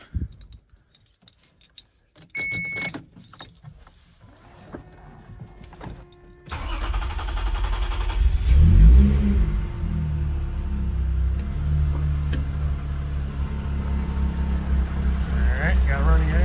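A Toyota MR2 SW20 fitted with a 2GR V6 cranks briefly, fires up and settles into a loud, steady, slightly rough idle on a cold day, preceded by quieter clicks and rustling.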